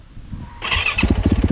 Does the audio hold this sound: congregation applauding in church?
no